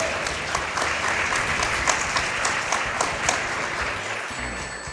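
Loud, sustained applause from a crowd at a speedrunning marathon event, a dense wash of clapping that stays steady throughout before thinning slightly at the end.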